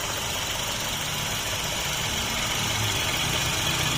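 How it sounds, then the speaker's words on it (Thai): A car engine idling steadily with no stumbling, a constant low rumble and hum throughout, close and even. "เครื่องยนต์ใช้งานปกตินะคะ ไม่มีสะดุด"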